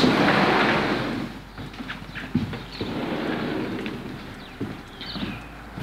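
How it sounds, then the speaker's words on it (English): Rain falls steadily around a house with a yard, porch and garage, a soft hiss with scattered drips and taps, fairly quiet and with no one talking. "It's raining."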